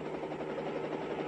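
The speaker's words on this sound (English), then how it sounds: "Our helicopter was flying on a northerly heading." A UH-1H helicopter in flight at altitude on a northerly heading, its steady rotor and engine drone continuous and moderately loud, with no voices.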